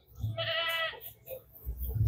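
A single goat bleats up close, a short wavering cry, with low rumbling noise around it.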